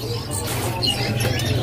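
Birds chirp and call close by in a bird shop, with a male magpie robin (murai) among them. The calls come as bright, overlapping tweets and whistles over a low background hum.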